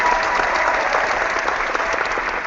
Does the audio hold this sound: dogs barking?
no